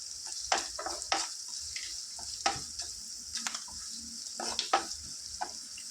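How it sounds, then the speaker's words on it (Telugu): Onions fry in a pan while being stirred, a soft steady sizzle broken by repeated sharp scraping strokes of a utensil against the pan at an irregular rhythm, fairly quiet and close, with no voices. "ఫ్రెండ్స్ ఆనియన్స్ చక్కగా ఫ్రై అయ్యాయి"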